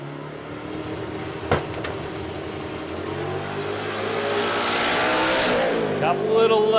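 Radial-tire drag racing car making a quarter-mile qualifying pass at a dragstrip, a loud sustained engine roar that rises in pitch and intensity, with announcer commentary running over it.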